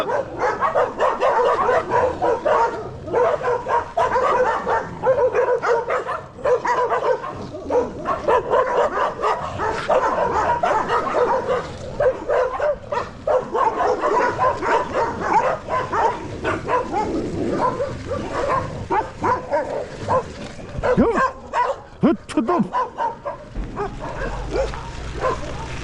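Several dogs bark and yelp insistently at close range on the Uzenbash trail near Yalta, Crimea, in winter, a dense, continuous run of overlapping barks with no pauses.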